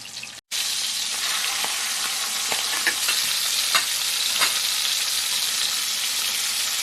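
Salmon sears in a hot pan, giving a steady, close, loud sizzle with occasional sharper pops and crackles and no talking.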